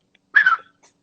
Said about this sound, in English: He's Cane Corso mix. He's like he's a 3 month puppy that's like humongous.